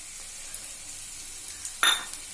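Chopped onion sautéing in hot coconut oil for a Goan mullet fish curry, a steady hissing sizzle with a brief louder stir near the end, close and without talk.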